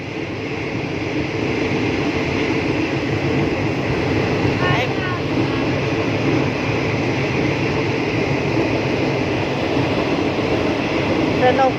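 Passenger train interior on a ride from Nakhon to Pattani: a continuous loud rumble and rattle of the carriage on the rails, steady throughout, with a brief metallic squeal midway and people talking in the cabin.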